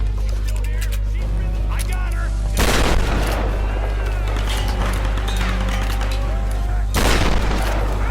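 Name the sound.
grenade explosion and gunfire in the video game Tomb Raider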